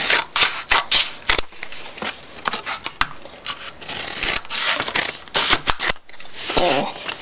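Scissors snip repeatedly through thin material, cutting four pieces for a homemade fingerboard, with close, crisp irregular cuts and rustling handling throughout, and a voice speaking over parts of it.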